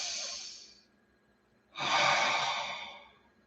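A slow breath out fading over about a second, a pause, then a long, fuller breath of air during a group meditation, close and soft with no talk.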